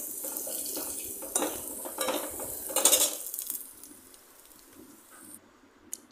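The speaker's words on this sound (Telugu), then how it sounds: "అది 1 టేబుల్ స్పూన్ యాడ్ చేసేసి ఆయిల్లోనే ఒక 1 మినిట్ ఫ్రై అవ్వాలి." Black pepper rasam masala powder fries in oil in a pan, a soft sizzle with a few spoon-and-pot clinks and stirring scrapes early on, fading to a quieter hiss.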